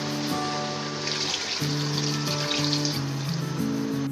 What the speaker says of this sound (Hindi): अब पानी मिला देंगे 2 ग्लास,